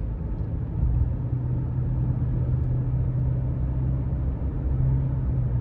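A 2021 Subaru Legacy Premium with a naturally aspirated four-cylinder engine cruises along, heard from inside as a steady low drone of engine and road rumble at moderate volume.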